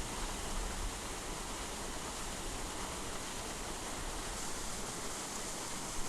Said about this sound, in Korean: 그 고드름 뒤로 쏟아지는 폭포수.